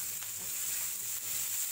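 Onion, green chili and curry leaves sizzle steadily in a hot pan, with a continuous bright hiss and faint scraping as they are stirred.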